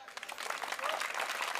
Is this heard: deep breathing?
no